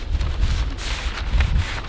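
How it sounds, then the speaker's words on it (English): Strong wind buffets the microphone outdoors beside a brisket smoker, a continuous rumbling roar with gusty swells and no voices. "it's super windy out here"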